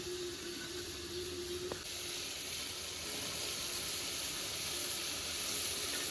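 Papaya stems dropped into a pan of fried spice masala for an egg curry, a steady close hiss and sizzle of steam that keeps going with a brief tap near the start.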